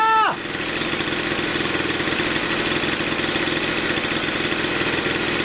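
A Yamaha Aerox moped's small engine idles steadily and close by, a continuous buzzing putter that starts right after a brief high sweeping tone at the very beginning, with no talk.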